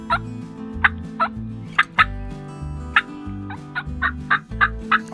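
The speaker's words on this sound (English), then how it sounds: "Toms were gobbling." Wild turkey toms gobbling outdoors during a spring hunt, a string of loud, sharp gobbles repeating roughly every second over a low, steady rumbling background, with no talking.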